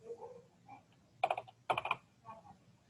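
Quiet bursts of key clicks on a computer keyboard, two short clusters of rapid taps in a calm room.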